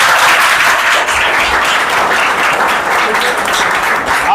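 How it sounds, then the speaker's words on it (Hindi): Loud, sustained applause rings out for students at a school result celebration, with many hands clapping together in a thick, even burst lasting several seconds. "सबसे पहले तो जोरदार तालियां।"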